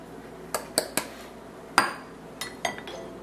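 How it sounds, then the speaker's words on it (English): A utensil clinks against a bowl while confectioners' sugar is stirred into melted chocolate for a gluten-free molten lava cake, giving about seven sharp, irregular taps over a quiet background. "So go ahead and put the confectionate sugar in there, and then stir it up real good."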